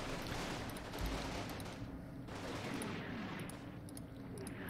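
Artillery barrage in the wargame Combat Mission Red Thunder, a steady rumbling roar of fire with a single heavy low thump near the one-second mark, under continuous dense blast noise throughout.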